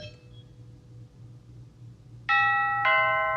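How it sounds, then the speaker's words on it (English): An electronic doorbell chimes two ding-dong tones near the end, clear and ringing out after a quiet stretch with a low hum. "send one of my kids out to go ring the doorbell"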